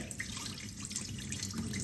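Soaking water drained off dried fermented mustard leaves (gundruk), a soft, steady trickle and splash into a sink, quiet and close, with no talk.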